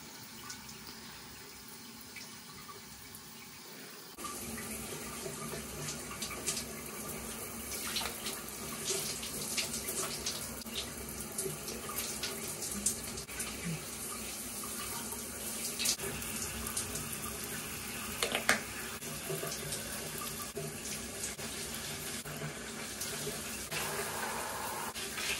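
Shower water runs steadily in a bathroom, a broad continuous hiss that starts abruptly after a few seconds of quiet and keeps on without pause, fairly close, with no voices.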